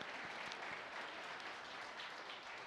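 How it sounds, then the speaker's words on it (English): A corporate event crowd gives a steady round of applause, many hands clapping together in a continuous, moderately distant wash that carries evenly throughout. "How about a big round of applause for Chanel?"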